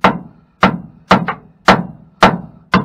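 Hammer blows strike the eyelet of a Bilstein 5100 shock absorber being fitted to a 2005-2016 Ford F250/F350 Powerstroke 6.0 4x4 pickup: six sharp metallic knocks, close and loud, spaced roughly half a second apart with short ringing decay.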